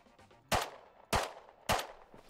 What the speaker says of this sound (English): He was shooting at him.